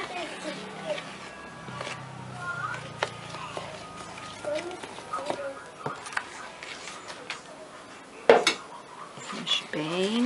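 Carrot cake batter being stirred in a bowl, with steady clinks and scrapes of a utensil against the dish and a sharp knock near the end, under someone talking.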